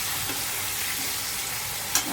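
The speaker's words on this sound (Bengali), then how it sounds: "আগে আলুটা ভেজে নিয়ে তারপরে ঝিঙেটা দেবো।" Potato pieces frying in oil in a home kitchen pan give a steady, close, hissing sizzle that continues evenly throughout, with no talking.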